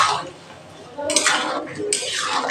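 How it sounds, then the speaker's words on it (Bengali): Poppy seed paste being stirred in a pan for aloo posto, with clattering, scraping spoon-on-metal strokes in two bursts over a soft background, no speech. "নেড়ে চেড়ে"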